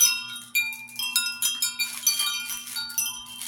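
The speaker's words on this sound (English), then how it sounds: "Now, I have a moo cow wind chime." A cow-themed wind chime rings on a front porch, bright metallic tones struck in an uneven rhythm, each chime ringing out and decaying, close and clear.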